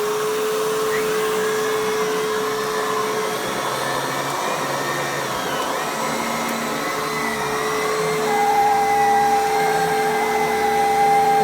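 A Kenmore PowerMate vacuum cleaner with a carpet and bare floor switch runs with a loud, steady motor whine and airflow roar, its pitch shifting and a sharp high whistle joining near the end, with no voices.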